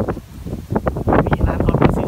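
Strong wind gusting outdoors at a lakeside cafe near a dam, buffeting the microphone in rough, loud bursts over a short span.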